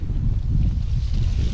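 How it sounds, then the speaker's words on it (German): Strong wind buffeting a microphone during a wet, cold bikepacking ride in Luxembourg, a loud, continuous low rumble with gusty fluctuations. "Und dann kam auch noch der Wind dazu."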